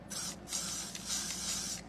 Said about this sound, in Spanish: Un poquito spray.